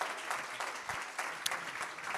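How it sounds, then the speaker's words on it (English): An audience at a JSerra event applauds Deacon Harold Burke-Sivers with a dense, continuous wash of clapping, loud and close, with no talking over it. "Another round of applause for the Deacon."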